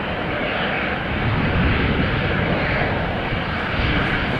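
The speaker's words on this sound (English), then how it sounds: "The next plane also coming this way." An airliner roars past at Amsterdam Schiphol Airport, a loud, dense, steady engine rumble that swells slightly midway and fills the whole moment without speech.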